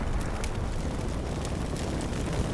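155mm and 150mm artillery rounds landing in Combat Mission, a continuous rumbling roar of impacts and explosions with scattered crackling bursts.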